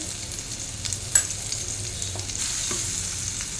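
Green chillies fry in a pan with a constant close crackling sizzle, joined by a few light stirring scrapes and one sharp clink, no voices.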